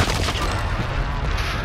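Rapid, loud gunfire fills a first-person shooter battle, a dense continuous fusillade of close shots with no pauses.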